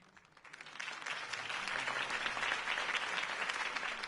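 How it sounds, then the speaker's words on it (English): Applause from a crowd swells up over the first second, then holds as steady, dense clapping, somewhat distant. "could have heard that applause"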